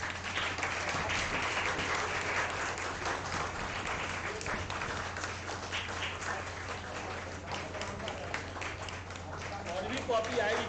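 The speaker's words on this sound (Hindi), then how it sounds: "आप लोग ताली नहीं रुकना चाहिए" An audience at a lecture on workplace stress and mental health claps steadily throughout a book launch, a dense, continuous patter with a low hum underneath and no one speaking.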